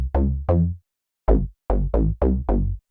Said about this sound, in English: Bass Artificial is a really plucky bass which can be used on top of a lower bass.